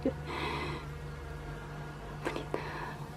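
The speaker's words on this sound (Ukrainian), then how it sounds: "Це пчела, це не оса." A bee buzzing close by in short, wavering bursts over a low steady hum, brief and fairly faint, with a few light knocks in between.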